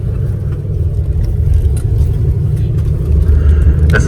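A tour bus engine runs while driving, a steady low rumble and whir filling the cabin, loud and continuous with slight swells, and no talk over it.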